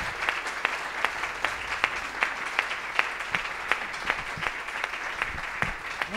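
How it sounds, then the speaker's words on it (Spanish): An audience at a public talk on rural life and sustainability claps together in steady, sustained applause, many hands giving a dense patter with sharper individual claps standing out throughout. "necesito que nos demos un aplauso unos a otros"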